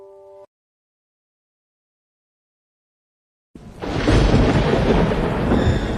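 After a brief tone and three seconds of silence, a lightning strike brings a sudden deep rumble of thunder that stays loud and broad, rolling steadily to the end.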